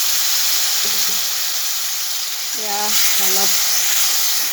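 Water poured into frying masala for a small fish curry sets off a loud, continuous sizzling hiss in the pan, with a voice briefly speaking over it.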